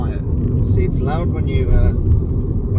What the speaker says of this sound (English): when you want to get pushing with that nice 2JZ kind of burble from that Jap can exhaust